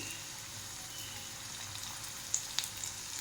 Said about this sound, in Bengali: এভাবে ভেজে নেব।